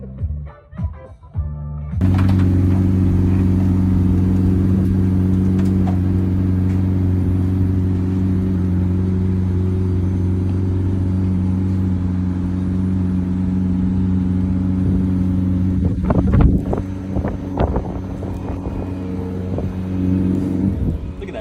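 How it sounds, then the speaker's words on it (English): A supercar driven around Bucharest, with a loud, steady engine drone and a brief rev surge part way through, close by. "The Tate brothers managed to get their hands on a pair of Supercars, which they then used to drive around Bucharest."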